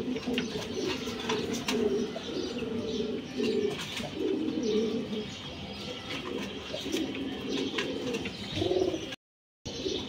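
Pigeons coo steadily in a pigeon house, with overlapping low, throaty calls repeating throughout, plus occasional chirps and a brief wing flutter near the end.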